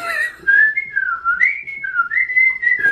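A person whistles a wavering, sliding melody up close, the tune rising and falling steadily with no talking over it.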